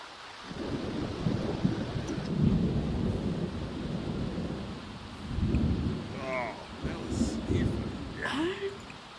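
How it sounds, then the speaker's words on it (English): Thunder rumbles from a random lightning strike in The Sims, a broad, loud roll with rain-like wash running the whole time, swelling in a few heavy bursts, with brief higher sounds near the end. "Random lightning strike a sim."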